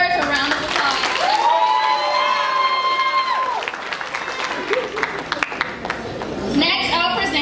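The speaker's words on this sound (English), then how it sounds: "Please give our musical awards a round of applause." An audience at a first- and second-grade promotion ceremony applauds and cheers for the musical award winners, with high, sustained whoops and shouts rising over the clapping before they fade into scattered claps and chatter.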